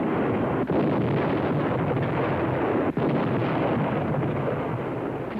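Battle sounds of mortar, hand grenade and gasoline bomb explosions blur into a continuous loud, rumbling roar of noise from an old wartime film about an attack in the Pacific, with no distinct separate blasts.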